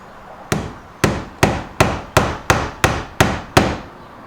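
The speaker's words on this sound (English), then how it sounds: "I just use gentle force here with the hammer" Nine sharp metallic hammer taps on a pin in a steady rhythm, close and fairly loud, each strike ringing briefly before the next, while fitting a sunshade on a 2011 Audi S5.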